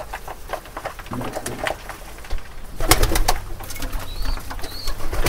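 Pigeons feeding on grit cooing in close, repeated soft calls, with occasional wing flaps and pecking patter over steady background noise.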